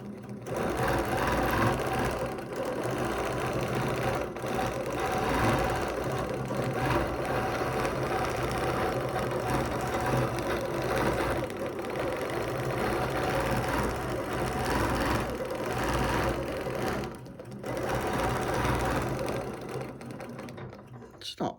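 A domestic sewing machine stitching through a quilt, a steady, rapid mechanical whir and chatter running nearly the whole time with brief pauses, while a person talks softly over it.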